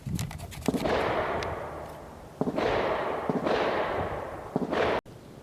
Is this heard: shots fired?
yes